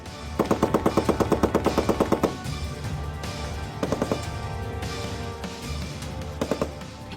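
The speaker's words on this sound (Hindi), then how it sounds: "दुश्मन को नेस्तनाबूद करने के लिए तोपों के गोले बरस रहे हैं।" During an Indian Army military exercise, rapid automatic gunfire fires in three distinct bursts: a long rattling volley, then two shorter ones, over a steady background rumble.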